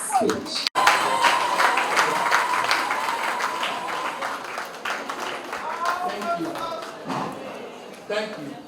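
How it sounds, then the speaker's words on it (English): Audience applause rising for Lady Bridget Akazie at an Umuada Igbo inauguration and induction ceremony in Abuja, a steady wash of many hands clapping that fills the hall, with voices mixed in underneath. "shall we rise up and give her a resounding applause"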